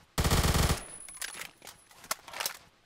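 Burst of automatic gunfire in the Roblox shooter Phantom Forces, a loud rapid volley lasting under a second, followed by a few fainter scattered distant shots.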